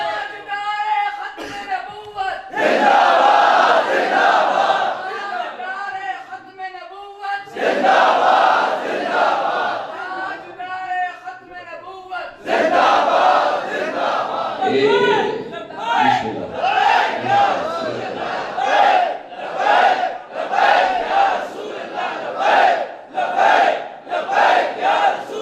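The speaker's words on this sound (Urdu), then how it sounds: "پھر لگائے جی نعرہ پھر لگائے" A crowd at a religious gathering roars a slogan in repeated bursts, answering a lead voice, loud and echoing, with talk between the chants.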